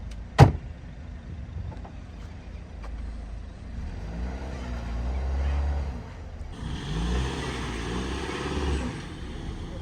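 A Jeep Rubicon crawls off-road over an obstacle, with a sharp knock near the start followed by a low, steady engine drone that swells and wavers, joined by a rougher rising noise toward the end.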